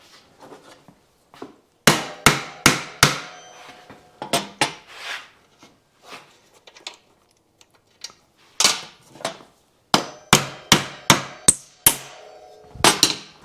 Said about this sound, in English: Get a plastic hammer.